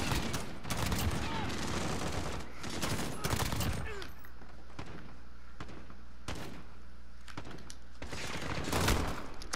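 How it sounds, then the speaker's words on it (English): Dense bursts of gunfire and blasts from a Call of Duty: Modern Warfare match, loud and repeated in clusters, with a brief quieter stretch before more shots near the end; a voice is faintly present beneath. "I hear explosions."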